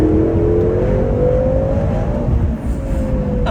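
A BMW M6 F13 engine in Sports Plus mode revs hard and climbs in pitch while accelerating, loud and close from inside the car, then eases briefly before holding steady. No speech.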